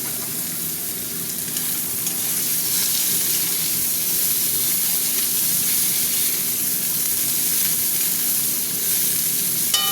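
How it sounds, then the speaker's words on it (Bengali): Brinjal frying in a pan makes a steady, close sizzling hiss that stays loud and unbroken for the whole stretch, with soft occasional stirring sounds beneath. "বেগুনটা একটু নরম নরম হবে ভাজা ভাজা।"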